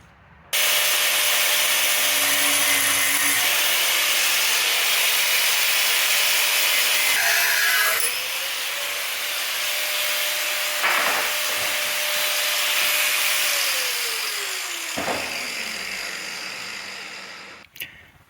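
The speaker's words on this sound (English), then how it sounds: "I just cut this wrench in half" A wrench is cut in half with a power tool during a Ram truck shock swap, making a loud sustained grinding whine that shifts pitch partway through, then breaks off abruptly near the end.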